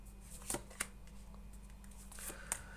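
Soft, quiet riffling of playing cards being shuffled, with a few sharp little snaps and clicks over a faint steady hum.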